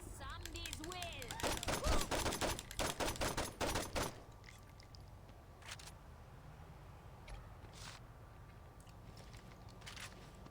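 Rapid gunfire in a video game, a dense burst of sharp shots for a few seconds, loud in the foreground, then scattered single pops under quieter background noise while someone talks.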